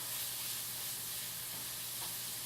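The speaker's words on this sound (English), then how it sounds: "So there we have it, the garlic goes in." Garlic sizzles in a pan alongside cauliflower, a steady, even frying hiss with faint stirring, heard on its own without talk.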